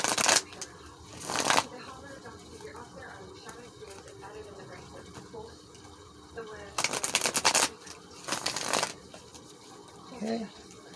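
Deck of oracle cards shuffled in several short bursts of riffling, close and crisp, separated by quieter stretches with faint handling noises.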